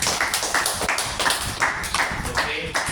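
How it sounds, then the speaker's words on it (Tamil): A short burst of hand clapping from a small group, brisk and uneven, with a voice speaking over it. "மிகப்பெரிய நன்றியினை கைத்தட்டி தெரிவித்துக் கொள்கிறோம்"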